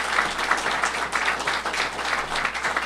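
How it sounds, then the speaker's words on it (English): An audience claps for a superintendent and a school principal at a Buffalo teaching awards event with Governor Cuomo. The applause is full and continuous, with a gently rising and falling swell. "let's give the superintendent and the principal a round of applause for doing a great job"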